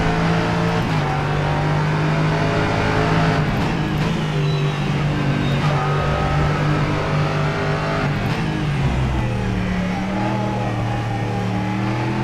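A Norma M30 LMP3 prototype racer at Road Atlanta in rFactor 2 drones steadily at high revs, its engine pitch sliding up and down through gear changes and lifts, loud and close throughout with no talk.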